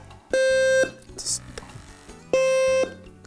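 Smoke alarm alert device for hard-of-hearing users sounds two loud, steady electronic beeps about half a second each, separated by a gap with faint indoor noise.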